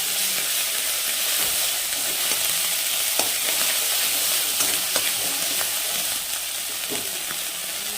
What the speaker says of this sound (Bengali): জিরে হয়ে গেলে তারপরে দিয়ে দেবো সেই বাটা আদাটা